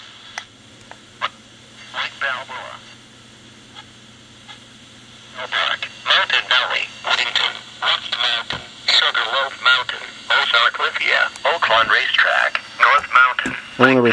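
A radio broadcast plays right after the station is changed, with a steady stream of speech-like sound at moderate volume and a few faint clicks and bursts before it settles in.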